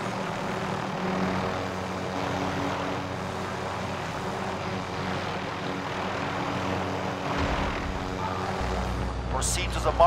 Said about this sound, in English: Got two helicopters.